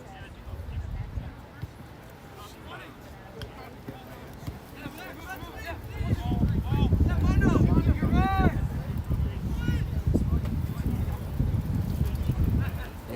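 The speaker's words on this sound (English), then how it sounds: "And the wind's definitely picking up now, for certain." Wind gusts across an outdoor boys high school soccer game in Pequannock on a Halloween afternoon. A low, blustery rumble swells louder partway through, with faint distant voices and thin whistling tones over it.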